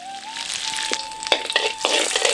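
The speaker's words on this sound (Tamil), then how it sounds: "இப்ப ஒரு சட்டியில ஒரு தேக்கரண்டி வெண்ணெயை சேர்த்து அதுல கொஞ்சம் கடுகு சேர்த்துருவோம்." Mustard seeds fry in a spoonful of butter in a pan, a close sizzle broken by several sharp pops and crackles, with a faint steady tone underneath.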